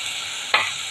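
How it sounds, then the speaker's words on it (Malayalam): Ground masala paste with turmeric goes into a hot pan, giving a sudden sharp sizzle that flares up and fades away quickly against a steady background hiss. "ഞാനിപ്പോൾ ആ ഒരു മസാലക്കൂട്ടാണ് ചേർക്കുന്നത്"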